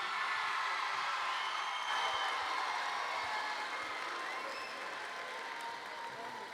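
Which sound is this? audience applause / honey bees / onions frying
audience applause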